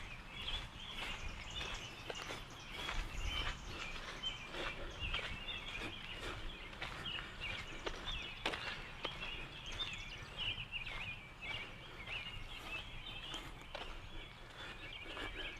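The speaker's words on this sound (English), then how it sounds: "you can hear the birds are just chirping like crazy." Small birds chirp continuously and faintly along a wooded walking trail in Tobaccoville, North Carolina, with soft footsteps crunching underneath and no talking.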